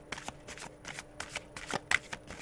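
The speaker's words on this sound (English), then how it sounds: "I'm going to pull 12 cards" Tarot cards shuffled by hand for a yearly reading, a run of quick riffling slaps and soft papery bursts in an uneven rhythm, close and fairly quiet with no talking.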